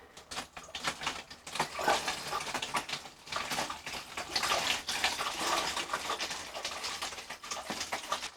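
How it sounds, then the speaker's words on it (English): Homemade hard lemonade poured through a funnel into a bottle, a close, continuous splashing and gurgling stream that swells and ebbs unevenly throughout. "Just pour it in as gentle as possible, not to disturb anything."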